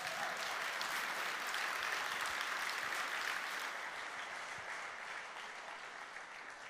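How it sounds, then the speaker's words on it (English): Conference audience at re:publica 2016 applauding after a talk, a steady dense wash of clapping that holds evenly for several seconds, heard from a distance and fairly soft. "a really big round of applause"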